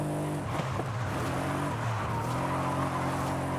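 A 2016 BMW M2 Coupe drifting in the Forza Horizon racing game, its engine droning steadily with rough tire scrub while it slides sideways, loud and continuous, with no talking.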